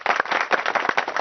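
A burst of clapping from a game show studio audience, dense and loud, with rapid overlapping claps that run steadily through the short moment.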